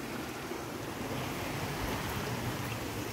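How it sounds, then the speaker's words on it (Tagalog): Steady rushing murmur of a small waterfall along a trekking trail at Abungan Falls, a constant broadband wash of falling water with no voices. "may maririnig kayong lagaslas ng waterfalls"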